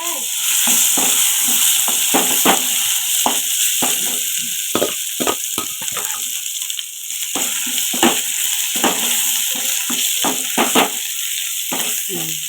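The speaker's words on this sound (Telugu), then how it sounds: "ఇప్పుడైతేనే తాలింపు పెట్టేస్తున్నాం కదా." Spices crackle and sizzle in hot oil, a dense run of sharp pops over a steady frying hiss.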